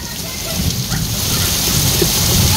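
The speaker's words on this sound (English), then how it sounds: "It's raining hard." Heavy rain pours down outside a home during a lightning storm, a loud, dense, steady hiss of drops hitting surfaces that continues throughout.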